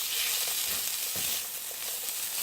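An aubergine filling mixed with pomegranate seeds and pepper sizzles steadily in a pan, a dense, continuous hiss close by with faint stirring scrapes and no talking.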